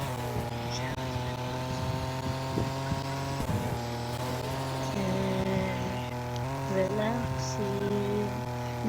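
A car engine driving in the video game Vehicle Legends, a steady droning hum that rises and shifts slightly in pitch, continuous throughout under occasional background noise.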